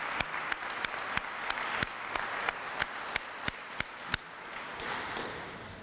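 Applause from an audience at a university dean's achievement awards ceremony, a soft bed of many clapping hands with a few louder, regularly spaced claps from someone nearby, fading toward the end.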